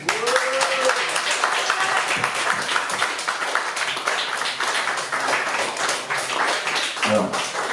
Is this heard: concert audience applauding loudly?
yes